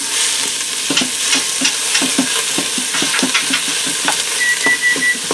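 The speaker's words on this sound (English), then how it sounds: "Now I'm going to add in about a pound of ground beef." About a pound of ground beef being broken up and stirred while it browns in an Instant Pot, with a constant loud sizzle and frequent scraping, tapping utensil strokes.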